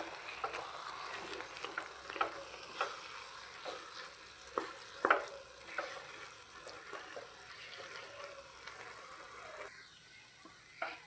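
Boiled potato is kneaded by hand into a chicken ball mixture, giving soft, close, squelchy pressing and slapping sounds at an uneven pace over a faint background hiss.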